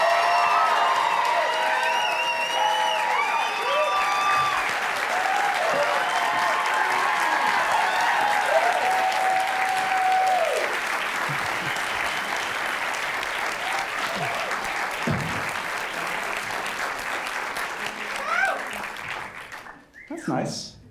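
Studio audience applauding and cheering to welcome Gary Oldman, a loud, dense, sustained wash of clapping lasting about twenty seconds with whoops and voices rising over it, then cutting off abruptly near the end.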